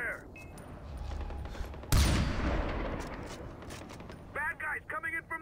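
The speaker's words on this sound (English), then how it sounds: "I'm taking fire!" In the video game Far Cry 4, a sudden loud blast of gunfire bursts out amid a rumbling battle. Shouted speech follows near the end.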